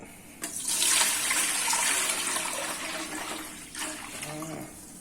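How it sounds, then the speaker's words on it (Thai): About three litres of water gush into a pot in a strong, continuous splashing stream that swells loudly after a brief start, then eases slightly before a short break and more trickling near the end. "มาใส่น้ำก่อนนะครับน้ำผมใช้เป็นน้ำประมาณสามลิตรนะครับ ใส่เลยครับ"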